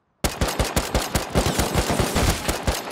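Rapid automatic AK rifle fire in a video game clan-base raid, with a dense burst of sharp, repeated shots starting abruptly and continuing steadily, loud and close with no talk.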